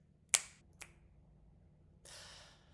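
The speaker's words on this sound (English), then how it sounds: "So I'm going to snap my fingers." Fingers snap twice, one sharp crack and then a softer one, close and alone in a quiet room, followed by a brief rustle of cloth.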